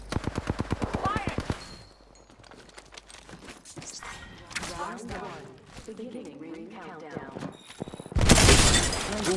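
Rapid automatic gunfire from the battle-royale game Apex Legends opens with a fast, even burst of shots, then scattered game effects and voices follow before a loud, dense volley near the end.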